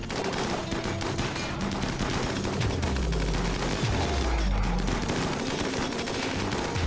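Gunfire in the Rimworld video game crackles as rapid overlapping bursts and volleys, with deep booming thuds underneath, sustained and fairly loud for the whole stretch.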